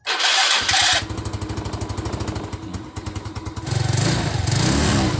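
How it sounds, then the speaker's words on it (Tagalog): A motorcycle engine fitted with a new CDI unit cranks, catches and runs with a rapid, loud putter, settling into a steady idle before revving up near the end. "Naandar na yung motor ko."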